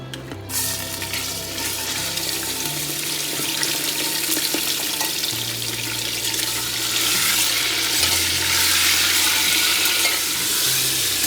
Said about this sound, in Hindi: और अब इसी ऑयल में मैं जो गोश्त है हमारा वो डाल दूंगी।